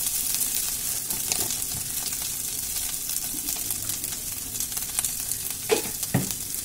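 Food frying in a pan is stirred: steady crackling sizzle throughout with scraping stir strokes, sharper clacks near the end, close and fairly loud with no talking.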